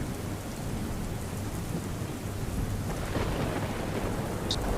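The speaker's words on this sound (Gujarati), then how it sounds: "નડિયાદમાં ભારે વરસાદ થયો છે" Heavy monsoon rain pours down in Nadiad, Gujarat, in a steady, dense roar with a low rumble underneath, no voices.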